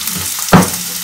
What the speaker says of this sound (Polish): Na rozgrzaną patelnię wrzucamy posiekaną cebulę.